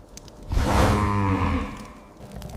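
Cattle lowing in an old Viking-style farmstead, one long, loud, deep moo swelling and fading close at hand, with no talk over it.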